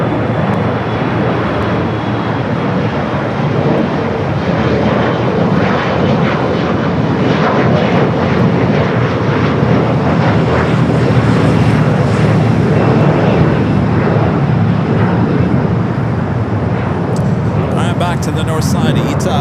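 A jet airliner takes off from runway 25 right at LAX, its engines a loud, sustained broadband roar filling the whole stretch and holding steady throughout, with talk faintly underneath.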